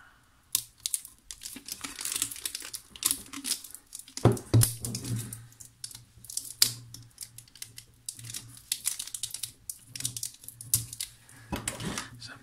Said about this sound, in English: Let's get a nice plastic cover over the end, keep all the bad stuff out.